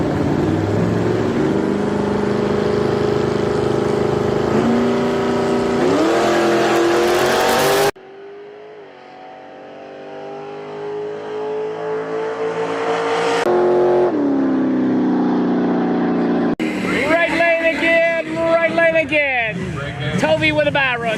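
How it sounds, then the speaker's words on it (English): Drag racing cars, a Mustang against a Camaro at a motorsports park, roar loudly in sustained bursts of engine revving with pitch rising through the gears, broken by a sharp cut and a fresh surge of engine noise, while a voice talks over the engines. "Mustang versus Camaro."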